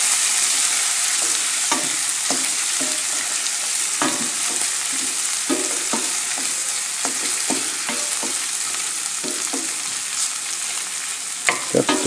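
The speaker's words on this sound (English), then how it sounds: "Making no noise using metal, that's why I'm using wood." Sausage frying in a pan, stirred with a wooden spoon: a steady loud sizzle throughout, with soft irregular scraping and knocking strokes from the spoon, no voices.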